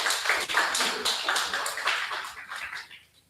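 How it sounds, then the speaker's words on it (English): Audience applause at the close of a seminar forum, a steady round of many hands clapping fairly close by that fades out toward the end. "Let's give him a round of applause as we close off."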